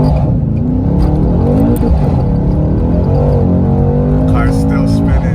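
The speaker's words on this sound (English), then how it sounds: "This is from a standstill, no launch control or anything, just hitting it." AMG car launched hard from a standstill without launch control, its engine roaring steadily louder as revs climb under full throttle with tires spinning, recorded from inside the cabin while someone talks over the noise.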